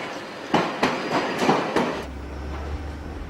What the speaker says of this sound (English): Karen Jordan is driving a Northern Line train for the first time in 3 months.